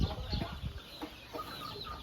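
Chickens on a Thai poultry farm with breeding roosters, giving soft scattered clucks at a moderate distance amid low background noise.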